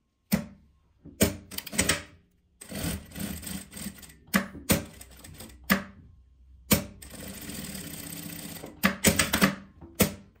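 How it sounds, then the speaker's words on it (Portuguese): A sewing machine stitches fabric in repeated short runs of rapid mechanical whirring and clatter, stopping and starting with silent pauses between bursts, close and alone. "E vamos levar lá na máquina para passar uma costura de um lado e do outro."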